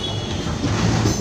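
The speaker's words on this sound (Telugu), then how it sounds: "సూలూరుపేట దాటుకొని ఇంకా వెళ్ళిపోతా ఉందమ్మా ట్రైన్." The Hyderabad Superfast Express, running from Chennai Central to Hyderabad Deccan, passes near Sullurpeta with a short, close, steady rumble of wheels and carriages.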